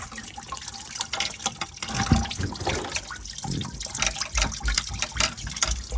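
Coolant drains from the thermostat hoses of a BMW E90, a steady close trickle and splash of liquid pouring and dripping with a few louder gurgles, no talking.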